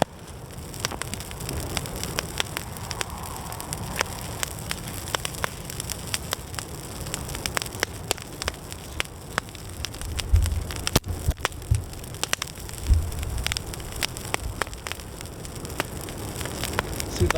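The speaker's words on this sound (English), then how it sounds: "The height that those flames are going right now" A deliberately set woodland fire on private ground crackles continuously with dense sharp pops and snaps over a low roar, fairly loud and steady throughout with no voices.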